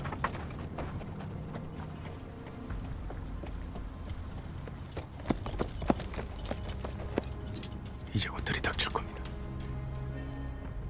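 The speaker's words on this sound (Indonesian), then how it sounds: "datang kuda tanpa penunggang berlari ke arah mereka" Hoofbeats of a riderless horse galloping toward a group in the Korean zombie series Kingdom, a steady clip-clop rhythm under a dense dramatic score with talk and rising louder impacts near the end.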